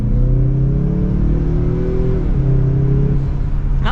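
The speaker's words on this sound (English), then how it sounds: "Not too bad from the little turbo engine." A 2024 Mazda CX-30 Turbo AWD crossover with its small turbocharged engine accelerates hard, the engine note rising steadily in pitch, dropping briefly at a gear change and climbing again, loud and close from inside the cabin with no talking.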